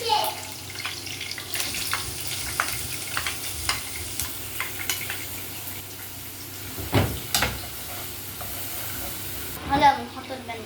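Onion frying in a pan as the base for pizza sauce, a steady sizzle with scattered stirring scrapes and clicks, fairly close, with a few louder stirring bursts near the end and no talk.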